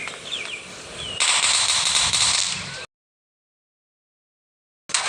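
Rapid automatic gunfire in the police-fight game Dude Theft Wars, loud and continuous bursts that swell louder midway, then cut to silence before a brief burst returns at the end.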